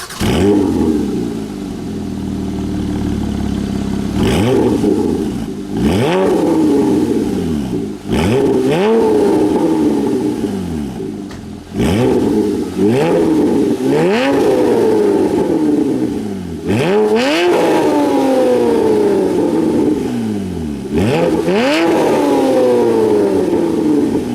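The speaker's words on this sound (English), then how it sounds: "Let's hear some revs from the new iPE Innotech performance exhaust." A Porsche 981 Cayman GT4 with an iPE Innotech performance exhaust in full-open mode, revved hard again and again: loud rising wails that snap off and fall back, about eight blips in steady succession, close by.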